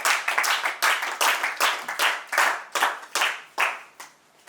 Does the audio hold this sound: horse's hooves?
no